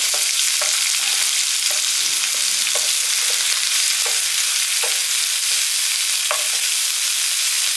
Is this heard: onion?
yes